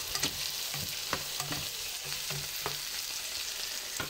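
Spaghetti with sliced sausages and sauce cooks in a pan, giving a soft, steady sizzle with light scraping stirs and occasional utensil clicks, quiet and close with no voices.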